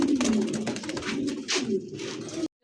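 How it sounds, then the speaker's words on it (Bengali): Several almond-coloured mukhi pigeons coo in low, rolling murmurs close by, overlapping in a steady chorus that stops abruptly near the end. "অ্যালমন্ড কালার মধ্যে একজোড়া মুখী কবুতর আছে"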